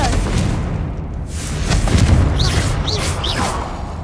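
A Confringo blasting spell goes off in a wizarding action game, a loud booming explosion with a crackling burst, followed by several quick whooshing magical flares.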